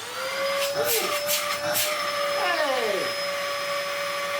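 A Dyson DC07 vacuum cleaner with a broken belt runs steadily after being switched on, giving a loud, continuous motor whine with a sustained tone, close to the microphone and without pause.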